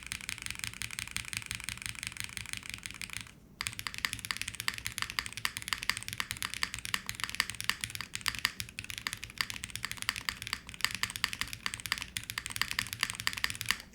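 Rapid, dense typing on a Gem80 gasket-mount mechanical keyboard with hand-lubed switches and GMK keycaps, close and continuous clacking with a brief pause early on and a low background hum underneath.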